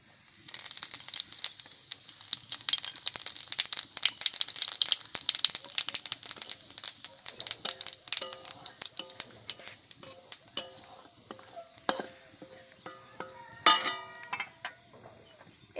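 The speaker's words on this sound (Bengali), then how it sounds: "তেলটা গরম হয়ে গেছে, এবার আমি জিরা আর শুকনো লঙ্কাটা ফোড়ন দিয়ে দেবো।" Cumin seeds and dried chilli spluttering in hot oil in a pan, a scattered crackle of pops and sizzles with a metal spoon clinking and scraping, growing busier toward the end.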